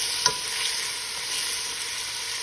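Chopped onion sizzles in hot oil in a pan while pork adobo is being cooked, a steady broadband frying hiss held evenly throughout, with one brief stirring clink near the start and no talking.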